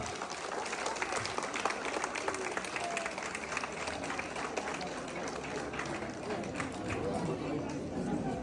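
Steady applause from a school audience at an investiture ceremony fills the whole stretch, dense clapping with a murmur of voices underneath.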